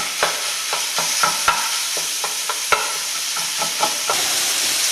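Sausage fries in a pan with a constant loud sizzle, punctuated by a steady series of sharp scrapes and taps as it is stirred, with no voices.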